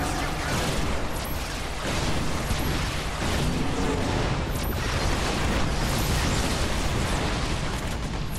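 Dense, continuous barrage of rocket launcher explosions and booming blasts in the Earth Defence Force video game, loud and sustained with no break and no talk over it.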